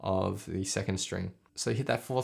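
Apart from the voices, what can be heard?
None of the usual background noises is heard.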